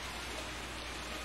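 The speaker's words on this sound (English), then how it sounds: "It's a forest in the rain." Steady rain falls through a forest in a Sherlock Holmes adventure game, an even, continuous hiss of drops with no talking over it.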